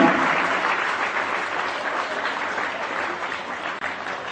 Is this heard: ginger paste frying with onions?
no